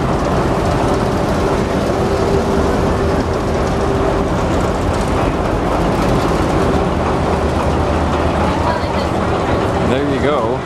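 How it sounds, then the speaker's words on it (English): A diesel electric locomotive runs loudly and continuously at a festival with free train rides, its engine roar and rumble steady and close, with a faint tonal hum, no clear talk. "This diesel electric they call Winnie."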